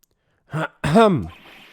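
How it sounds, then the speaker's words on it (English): A short throat-clearing sound effect from the courtroom video game Phoenix Wright: Ace Attorney, a brief grunt followed by a longer voiced rasp, close and isolated against silence. "Maybe I should clear my throat?"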